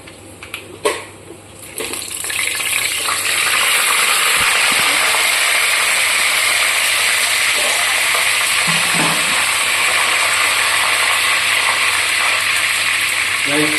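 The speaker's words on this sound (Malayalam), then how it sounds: "എണ്ണ തിളച്ചിട്ടുണ്ട് അപ്പൊ നമുക്ക് ഈ ബേപ്പില അങ്ങോട്ട് ഇട്ട് കൊടുക്കാം" Curry leaves drop into hot oil and burst into loud, crackling sizzling that settles into a steady, bright frying hiss close by.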